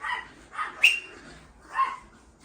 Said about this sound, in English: It's my dogs. They're fucking awesome, but they're loud.